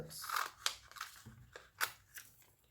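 Scissors trimming a sheet of vellum paper, a series of crisp snips and crunchy cuts in an irregular rhythm, close and fairly quiet, with no talking.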